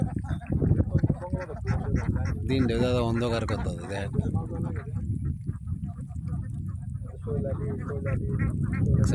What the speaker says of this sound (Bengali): হাঁস কত সুন্দর।